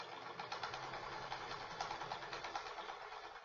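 A sewing machine with a wide plastic quilting foot stitches through heavy drape fabric, a faint, steady mechanical chatter with a soft rhythmic pulse throughout.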